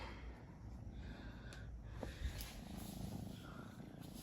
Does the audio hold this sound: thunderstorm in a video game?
no